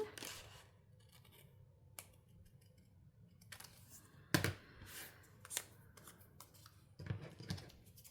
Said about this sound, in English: So I'm gonna cut right on this line.